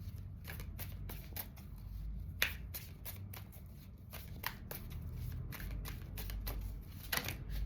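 Tarot cards being shuffled by hand, a run of quick, crisp riffling bursts and snaps repeating close up in a quiet room, with no talking.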